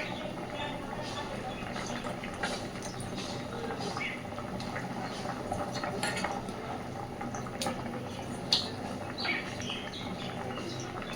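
Curry gravy with potatoes bubbling in a pot, a soft steady simmer of liquid with occasional clinks of utensils, heard close under a busy kitchen background.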